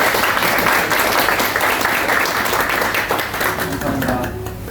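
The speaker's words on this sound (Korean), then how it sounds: "여기까지 먼 길 오신 4분한테 환영의 박수로" An audience at a company workshop and sports day applauds to welcome four guests, a loud, dense, sustained clapping that fades slightly toward the end, with voices mixed in.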